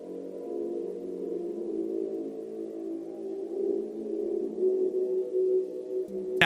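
Freddy's arrival sound cue in a Five Nights at Freddy's game: a low, droning, murky tone that holds steadily for several seconds with slight wavering, ending in a brief click.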